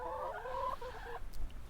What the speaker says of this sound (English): And here are the chickens.